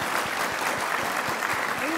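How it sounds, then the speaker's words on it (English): Audience applause on a talk show about a boyfriend and best friend, a steady wash of clapping from a studio crowd lasting two seconds, fairly even and moderately loud, with faint voices underneath. "so let's give them a clap for being such an"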